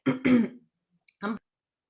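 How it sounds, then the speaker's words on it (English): A close, sharp cough is followed by a short, gruff throat clearing, with a brief pause between them. "I felt that cough coming on."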